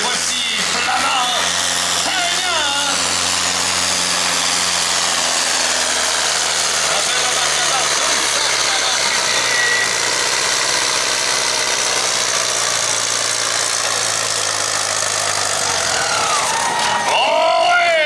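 A tractor-pulling tractor idles on the track at a stock 6500 lb class event, a steady loud low engine drone with shifting pitch, under a French announcer's voice and crowd noise.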